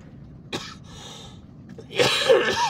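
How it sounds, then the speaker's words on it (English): A man coughs in short, sharp bursts, with one brief cough early and then a louder, harsher coughing fit toward the end, close to the microphone. "I'm sorry about the cough"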